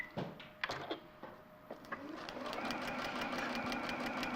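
A sewing machine stitches a quilt, starting with a few separate mechanical clunks and then settling into a rapid, steady whirring run that repeats an odd locking-like stitch, close and fairly quiet.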